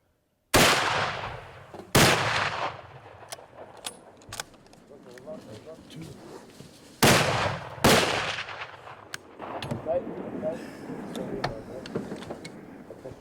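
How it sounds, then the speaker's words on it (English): Heavy rifle shots ring out during an African safari buffalo hunt, several loud, sharp reports spaced seconds apart with echoing tails, while people talk quietly in the background between shots. "when the shooting starts, they need to keep shooting until that animal goes down"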